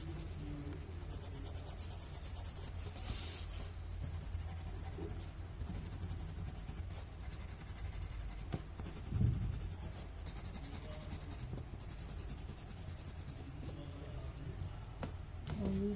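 White charcoal pencil scratching across paper in soft, continuous strokes, with faint rubbing and a low background rumble throughout.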